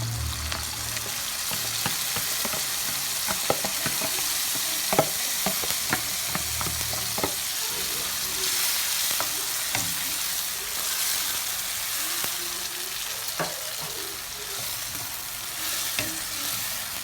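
Fresh pepper, tomatoes and onions cooking in a pot for stew produce a dense, steady hiss of frying, dotted with scattered pops and spatters throughout, close by and without talking.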